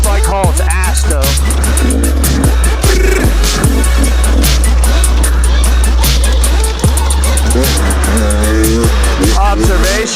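A fast motorcycle ride: a loud, close engine roar holds steady with rising and falling tones and wind rush throughout, and brief voices surface over it.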